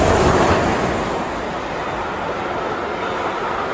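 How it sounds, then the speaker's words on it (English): A steam train passes through Taplow station, heard as a loud, close, broadband rushing roar with heavy wind buffeting, strongest at the start and easing slightly as it continues. "we've got a steam train coming through here in 15 minutes"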